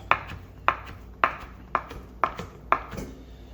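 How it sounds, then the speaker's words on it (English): A knife roughly chops fire-roasted New Mexico green chiles with six crisp, close chops at a steady pace of roughly two per second, no talking. "And fold this back over, roughly chop"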